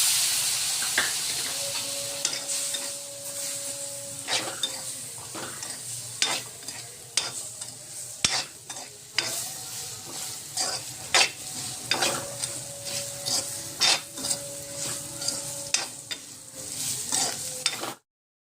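Fried green chillies with peanuts are stirred in a pan after lemon juice goes in. A steady sizzle runs throughout, with frequent sharp spoon scrapes and taps against the pan, close up.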